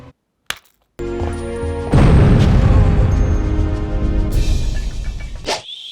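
Explosion in the video game Castlevania: Legacy of Darkness, a short pop followed by a loud sustained boom and crumbling roar that trails off over several seconds, with game music tones underneath.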